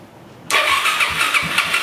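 Suzuki DRZ400SM motorcycle with a newly installed Lectron carburetor cranks and fires straight up, the engine catching abruptly and settling into a loud, close, steady idle.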